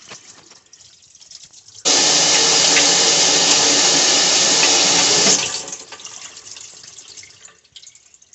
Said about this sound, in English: I'm going to turn up the water up here.